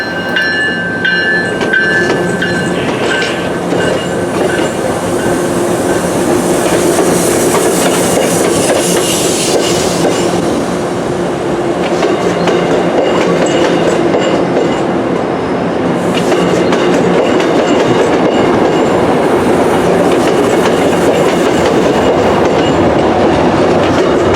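An MBTA commuter train on the Worcester Line rolls past nearby, loud and continuous, with rumbling wheels, rhythmic clickety-clack over rail joints and occasional metallic squeals.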